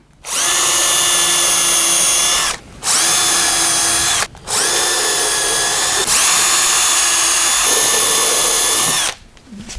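Festool power drill boring holes through a wooden bench apron, loud and close, with three long whining runs separated by brief pauses and the pitch dropping as the bit loads up in the wood.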